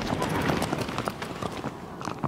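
Hooves of Agro, the horse in Shadow of the Colossus, beating in a quick, steady clip-clop over a busy game soundscape, fairly close and loud.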